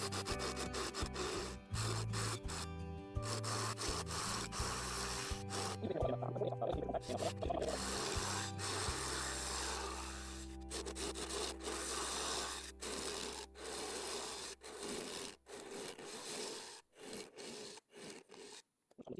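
Lathe gouge cutting a spinning cedar vase blank at about 600 to 700 RPM, knocking a high spot down with a steady close rasping, scraping drone broken by sharp ticks and short gaps near the end.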